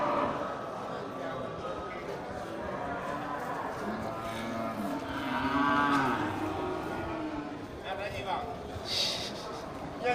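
Cattle at a livestock show moo several times in long, drawn-out calls amid busy crowd chatter and an auctioneer-style voice talking over the scene.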